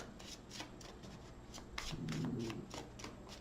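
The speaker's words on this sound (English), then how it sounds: "Off the top of the deck, 2 more shuffles." A deck of tarot cards being shuffled in quick riffling bursts, a crisp flutter repeated several times, close and clear with no talking.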